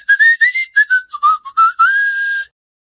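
A person whistles a short, bouncy tune of quick separate notes, finishing on one long held note, clear and close.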